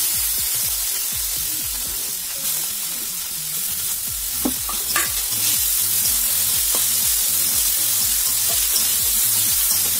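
Fish and garlic fry in oil with browned onions, a continuous close sizzle with occasional small crackles and spatters.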